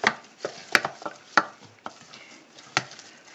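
Cream puff dough of flour, butter and eggs is worked by hand with a utensil in a bowl, giving irregular soft knocks and wet slaps at close range, fairly quiet, with no talking.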